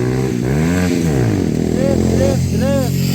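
A stunt motorcycle revving at a busy practice session and photo shoot: a few quick, rising and falling throttle blips, close and loud, under people talking.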